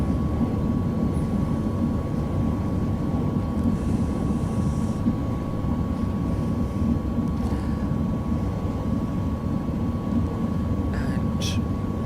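A twin-engine aircraft taxis in a flight simulator game, its engines a steady, loud, unchanging drone with a faint high whine, while someone talks over it.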